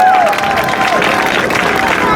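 A rally crowd applauding and cheering at a union rally and march, a loud, dense wash of clapping and voices filling the whole moment.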